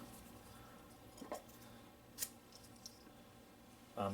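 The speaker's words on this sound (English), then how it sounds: "we can expect it to cut through P-cord easy" A blade cuts through paracord in a quiet setting. There are a few faint, isolated snips spaced apart, with a sharper cut near the end.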